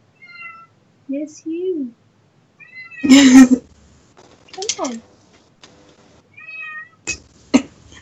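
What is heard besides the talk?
cat meowing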